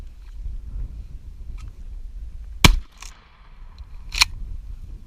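Two sharp gunshots at an outdoor shooting range, one near the middle and another about a second and a half later, each a brief crack over low wind rumble, with a fainter pop between them.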